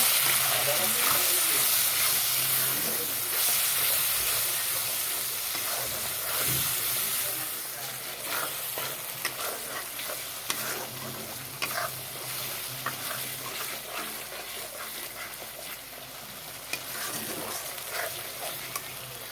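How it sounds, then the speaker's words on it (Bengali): Masala for an egg curry frying and being stirred in a pan, a steady hissing sizzle with scraping strokes that eases slightly over time. "মশলাটাকে ভালো করে কষিয়ে নিয়ে তারপর আবার ফিরে আসবো"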